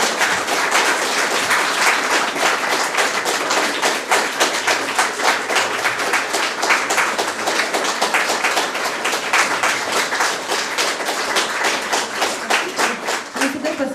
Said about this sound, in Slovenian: dajmo še en velik aplavz